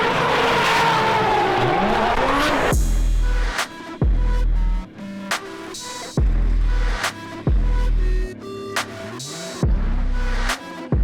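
Cars drive at Ebisu Circuit in Japan, loud and close: one engine revs and sweeps past, and then a run of sharp, repeated gear shifts and throttle bursts follows with brief pauses between them.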